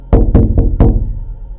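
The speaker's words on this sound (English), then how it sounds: "someone was banging on the door." A front door is banged on hard four times in quick succession, the heavy knocks loud and close, with the last one followed by a lingering resonance.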